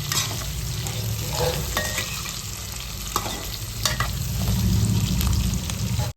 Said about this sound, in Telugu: ఇప్పుడైతే ఇందులోకి మునక్కాయలు అయితే వేస్తాను మిక్సింగ్ మిక్సింగ్ మిక్సింగ్